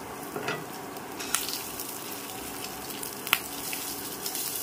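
Rice frying with chopped ginger in a pan for pulao, a soft steady sizzle close by with occasional light scrapes and taps of a stirring spoon, fairly quiet and with no talking.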